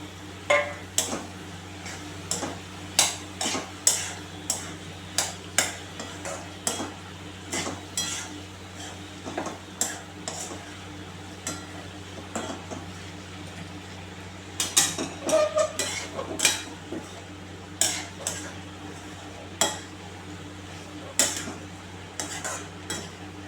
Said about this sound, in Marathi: थोडासा फिरवून घेते सगळं तेल मसाले डाळ वगैरे सगळे